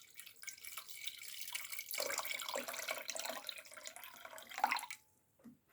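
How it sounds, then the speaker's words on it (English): Water poured from a tap into a pot holding ginger and powdered turmeric, a steady splashing rush that swells and then stops, followed by a couple of faint clinks. "we're just going to top the rest up with water."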